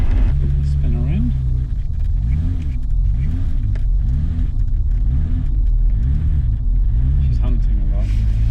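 BMW E30 engine running while driving on a road, a steady low rumble with rising and falling revs throughout, close inside the car, with people talking over it.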